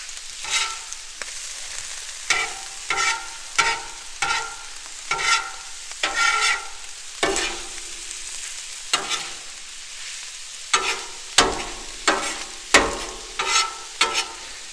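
Keto egg roll in a bowl being stirred and mixed on a Blackstone griddle: about a dozen close, rhythmic spatula scrapes over a soft background sizzle, with no talking.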